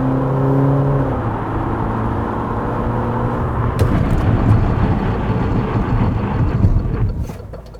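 A Peugeot 5008 seven-passenger SUV runs with a steady engine drone, then loud road and tyre roar swells and carries on as it brakes hard to a complete stop.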